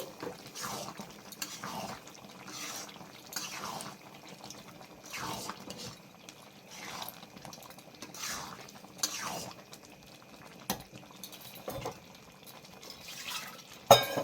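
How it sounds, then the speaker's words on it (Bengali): Water splashing into a pressure cooker to rinse it while cooking chicken-fat ghugni, with repeated short sloshing bursts and metallic clinks of the pot, close and fairly quiet. "প্রেসারে একটু জল দিয়ে জলটা দিয়ে দিচ্ছি, প্রেসারটা ধুয়ে।"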